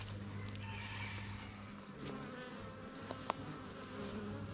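Soft, continuous buzzing of a large honeybee swarm on a plum tree, a faint steady hum with a couple of brief clicks.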